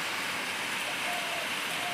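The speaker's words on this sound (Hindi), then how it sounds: "ये देखिए फिर बारिश शुरू हो गई बाहर, ठंडी हवा चल रही है इस टाइम पे बारिश के साथ साथ" Steady rain falls outdoors, a soft, even hiss of drops on surfaces with no break, heard alone and fairly quiet throughout.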